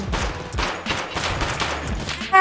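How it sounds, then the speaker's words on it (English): Pistol gunfire in Escape from Tarkov, a rapid series of sharp shots and echoing reports in close succession, fairly loud, ending with a sudden louder burst. "Pistol still shoots bullets, don't it?"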